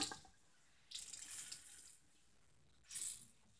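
Tap water runs onto a squishy toy in two bursts, a longer gush near the start and a shorter one toward the end, with quiet pauses between and no talking.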